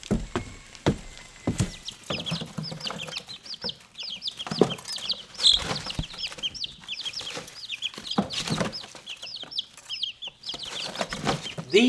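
Svart Hona chicks in a brooder give busy, repeated clucks and high chirps throughout, with scattered rustling and scratching of shavings close by.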